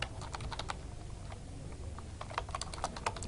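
Rapid, irregular keystrokes on a computer keyboard as numbers are entered into an Excel spreadsheet, clicking close and steady over a low background hum with no talking.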